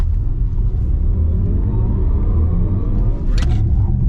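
A BMW car runs flat out on the Estoril circuit, a heavy, continuous engine rumble holding loud and near from start to finish with a brief sharp burst near the end.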